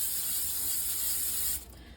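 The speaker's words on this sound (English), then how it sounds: "So I'm going to spray my bowl, cover, and let this rise for about 1 hour." Cooking spray hisses steadily from an aerosol can into a bowl in a home kitchen, a close, continuous spray lasting about a second and a half before cutting off abruptly.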